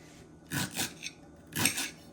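Three quick knife chops through okra on a cutting board, close up, spaced unevenly with short pauses between them.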